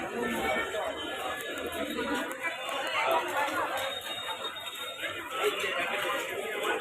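A dense crowd fills a busy market with constant overlapping chatter, scattered laughter and voices near and far, a lively unbroken hubbub.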